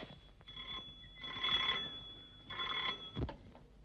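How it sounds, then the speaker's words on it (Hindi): An old telephone bell rings in two bursts with a pause between them, in a 1952 Bollywood film scene. The ringing is moderately loud against a quiet background, and a brief thump comes after the second ring. "ये उसी का फोन होगा"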